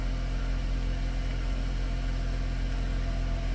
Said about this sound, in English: The engine's on a cold start, so it's a bit noisy.